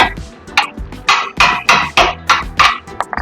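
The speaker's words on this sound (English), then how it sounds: "so you have to use the hammer." Sharp metallic hammer blows on a steering tie rod nut, about seven of them at a steady, slightly uneven pace, each ringing briefly, close by with no talking.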